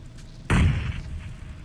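A bomb blasts in PUBG Mobile, a single loud booming thud that hits suddenly and rumbles off over about half a second, heard alone without talk.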